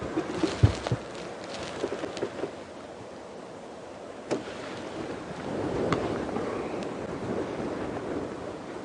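Wind buffets the microphone on an open safari vehicle in the African bush, a constant rough rush that swells into a stronger gust near the end, with a few faint knocks early on.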